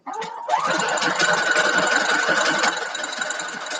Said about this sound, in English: we're going to go ahead and sew